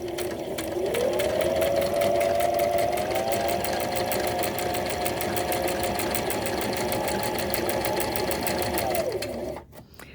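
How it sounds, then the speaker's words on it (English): A sewing machine stitches a buttonhole in one continuous fast run, its rapid needle clatter running steadily close up for about eight seconds before stopping abruptly. "we're going to sew down until we get to this bottom point"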